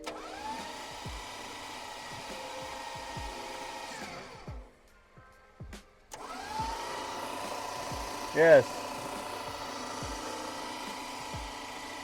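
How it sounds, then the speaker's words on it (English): Plymouth SUV engine cranked over with its spark plugs removed, a steady rhythmic starter whir with regular compression pulses, pausing briefly midway before spinning again, with a short word spoken. "Turn it over without the plugs in it."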